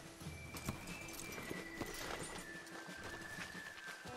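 Hooves clip-clopping from horses in Red Dead Redemption 2 Online, a steady rhythmic patter of walking steps under continuous game ambience and a faint tonal hum, moderately close.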